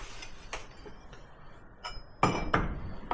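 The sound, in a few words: quick tap on a hot piece of metal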